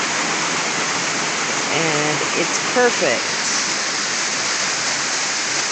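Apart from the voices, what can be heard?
waterfall at Roaring River State Park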